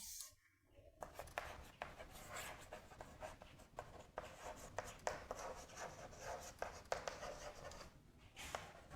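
Repeated scratchy strokes of writing on a board during a lecture on Mendel's monohybrid cross, a steady run of close, moderately loud marks with brief pauses between bursts.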